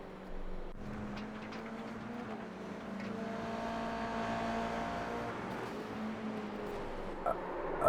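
Toyota GR86 race cars pulling away together at Oschersleben in iRacing: a sustained engine drone with rising harmonic tones as the cars accelerate, steady and fairly loud, no voices.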